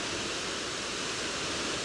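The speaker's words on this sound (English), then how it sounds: "Something about a waterfall, it's just unbelievable. The water's at such heavy volume as well." Heavy roar of Aber Falls waterfall in Snowdonia at high volume, a steady, dense broadband rush of falling water that holds constant and loud throughout with no voices.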